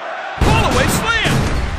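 A WWE wrestling slam onto the ring mat in the WWE Mayhem game lands with a heavy thud over a roaring arena crowd, while excited commentary runs throughout.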